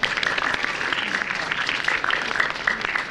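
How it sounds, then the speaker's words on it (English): A school convocation audience gives a round of applause after two presentations: dense, steady clapping from a crowd that carries evenly through the whole stretch without any voice on top. "let's give another round of applause for those two presentations"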